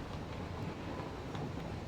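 A video game train rumbles steadily along the track as it slows down or takes a turn, a faint continuous rolling noise heard alone.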